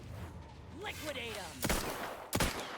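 Video-game gunfire sounds as two sharp, loud shots or bursts near the end, over a busy game soundscape of whooshing and sweeping tones, with a voice talking underneath.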